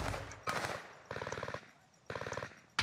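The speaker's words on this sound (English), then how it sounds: "we're getting shot from the right" Bursts of automatic gunfire in the video game Call of Duty: Warzone, three short rattling volleys spaced about half a second apart, followed by one sharp final shot, loud and close with no talk over them.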